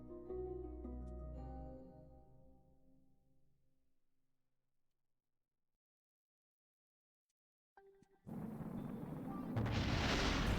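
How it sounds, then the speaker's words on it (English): A spacecraft explodes in the video game Kerbal Space Program: decaying musical tones fade into silence, then a sudden loud, roaring burst cuts in and keeps rumbling to the end. "It was just instant explosion that time."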